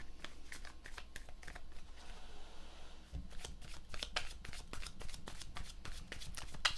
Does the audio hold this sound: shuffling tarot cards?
yes